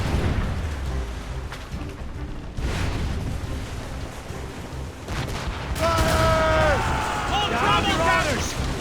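Ship cannon fire in Assassin's Creed Rogue, a naval battle with repeated booming volleys and crackling bursts, shouted commands and voices mixed in, rising louder toward the end.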